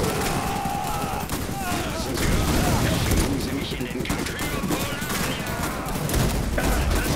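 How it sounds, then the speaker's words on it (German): Suppression gunfire in the strategy game Iron Harvest, rapid overlapping machine-gun bursts and shots crackling steadily throughout, with battle noise and game voices mixed in. "Unterdrückungsfeuer!"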